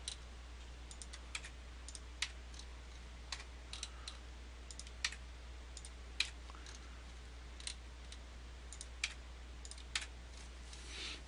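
Scattered keyboard key presses click quietly at an irregular pace over a low steady hum, close and sparse, with no talking.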